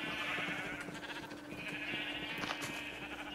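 Sheep in Minecraft bleat twice in short succession, a bright, steady game sound up close with no one talking.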